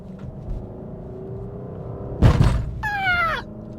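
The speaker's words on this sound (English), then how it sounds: "Big ass fucking pothole, man." From inside a moving car, a low road rumble hums steadily until the car hits a big pothole with a sudden heavy thud, followed by a brief squealing whine.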